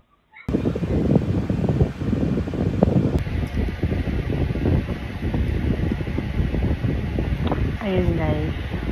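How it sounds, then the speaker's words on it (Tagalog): An electric fan runs steadily in a kitchen, a continuous broadband whirring that fills the whole stretch at close range, with faint clatter and a brief higher tone near the end. "Pasensya na po sa ingay ng electric fan."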